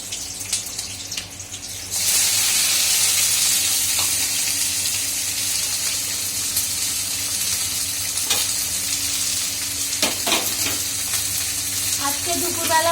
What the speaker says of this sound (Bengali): এই যে পাঁচফোড়ন দিচ্ছি, কাঁচা লঙ্কা দেবো